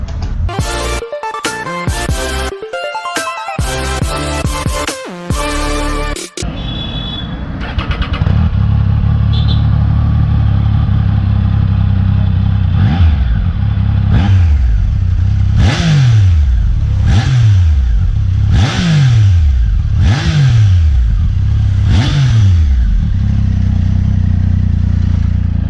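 A Triumph Tiger 800 XCx motorcycle starts up and settles into a steady idle. A series of sharp throttle blips follows, each rising and falling quickly, loud and close, with no talk over it.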